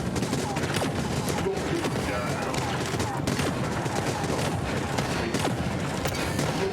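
Rapid, dense gunfire fills a Void Bastards game firefight, shots crackling continuously at steady loudness for several seconds.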